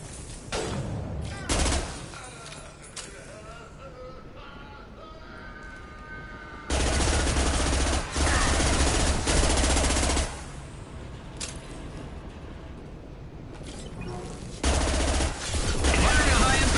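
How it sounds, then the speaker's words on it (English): Video game gunfire in Mass Effect 2, sustained loud bursts of automatic weapon fire in several long stretches, separated by quieter gaps with scattered single shots, impacts and combat noise. "Firing a high impact shot."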